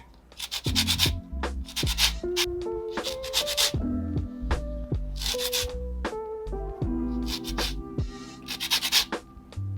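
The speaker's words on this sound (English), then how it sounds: "I have my rasp and my orange. I'm just gonna grate it right in there." Orange zest is grated on a metal rasp in a home kitchen, heard as rhythmic, close scraping strokes in repeated bursts with short pauses between them and no talking.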